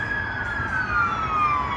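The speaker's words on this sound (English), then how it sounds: "it's an ambulance" An ambulance siren wails nearby, its tone sweeping downward as it passes, over a low rumble of traffic.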